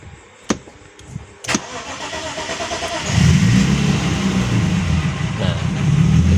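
A BMW E36 with a Speeduino engine management system and keyless start button cranks with the button held, after a few sharp clicks. The engine catches and settles into a steady, loud idle with a rumbling low tone.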